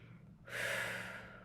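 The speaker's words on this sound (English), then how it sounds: "Taking some moments to take in some intentional breaths and breathe them right back out." A single audible breath, drawn in sharply after a short pause and held as a rushing airy intake, close to the microphone and with no speech.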